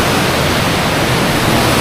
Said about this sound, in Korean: 이제 구룡폭포에서 내려오는